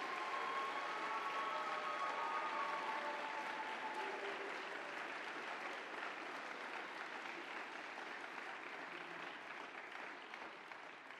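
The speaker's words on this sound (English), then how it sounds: "Let's have a big round of applause for the class of" Crowd of students and guests at a university matriculation ceremony giving a big round of applause for the incoming class, sustained, dense clapping that carries on for over ten seconds, slightly distant in a large hall, slowly tapering.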